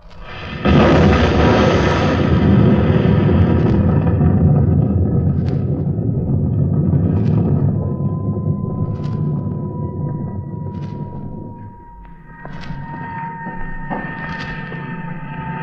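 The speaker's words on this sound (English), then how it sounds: "You'll hear the sound of the explosion any second now." An explosion sound effect from an old-time science fiction radio drama: a long, heavy rumbling blast that roars loudly, then fades into a lingering low rumble broken by scattered crackles and thuds, with no voices.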